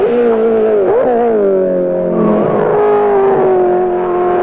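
A 1983 race car on Mount Panorama at Bathurst climbs toward the cutting, its loud engine held near with a brief shift dip, then a strong steady drone.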